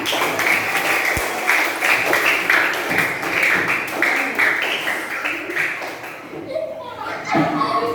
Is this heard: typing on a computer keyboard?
no